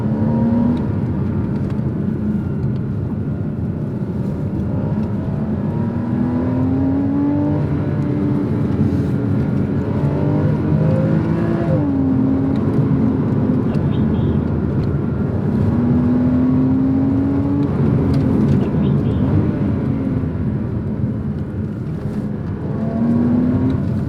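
A Porsche Cayman's engine drones steadily in manual mode, loud and continuous, with rising tones that climb through each gear before dropping back at the shifts, with no voices over it.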